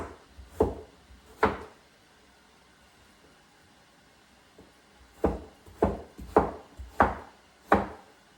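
A knife cuts vegetables into chunks for a pumpkin potato stew. Two crisp chops come first, then a pause, then a run of five or six steady thuds on a board, close and fairly quiet.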